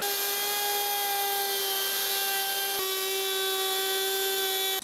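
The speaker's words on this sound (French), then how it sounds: "Cette défonceuse, elle est très bien." A wood router cuts a groove about 5 mm deep for a shelf, giving a loud, steady high-pitched whine that dips briefly midway and then carries on alone.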